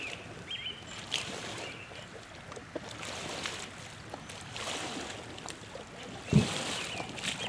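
Paddle strokes in lake water from an inflatable AIRE kayak, gentle repeated dips and swishes with light trickling, one sharper knock near the end, all close against an open outdoor ambience.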